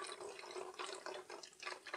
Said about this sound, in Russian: Сначала наливаю уксус 100 мл.